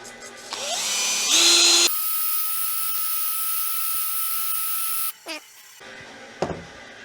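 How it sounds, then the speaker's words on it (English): A steady, high-pitched whine of a small plastic drill cleaning scuba cylinder threads, running continuously for several seconds, with a few short mechanical clicks and scrapes near the end. "we'll clean up the threads again with our plastic drill"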